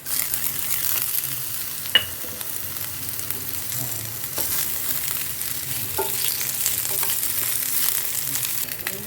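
Green chillies and curry leaves sizzle steadily in hot oil for a Kerala-style squid roast, a close, continuous frying hiss punctuated by a few light clinks of stirring.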